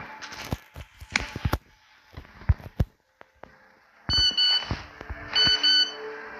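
An electronic phone ringtone in a video game chirps in two bursts of repeated high beeps, preceded by scattered clicks and thumps.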